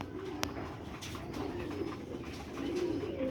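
An old-breed pigeon coos in low, rolling murmurs close by, steady and unaccompanied by speech, with a faint click near the start.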